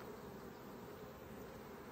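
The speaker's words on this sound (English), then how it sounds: "There are a ton of bees in here." Honey bees buzz inside a beehive during an inspection, a faint, steady dense hum with no break.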